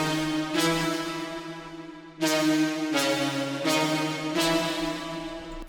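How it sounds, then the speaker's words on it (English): Sustained synth preset for a future trance breakdown, rich layered chords swelling in long phrases with a brief dip before returning, spacious and alone with no voices. "And later on in the breakdown we have this synth over here,"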